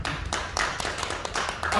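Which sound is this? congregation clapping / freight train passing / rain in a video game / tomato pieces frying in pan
congregation clapping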